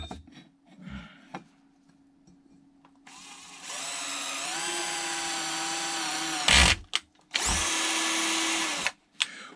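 A power drill boring into metal in a workshop with cutting fluid, whining steadily for several seconds, stopping briefly with knocks, then running again, preceded by quiet handling clatter.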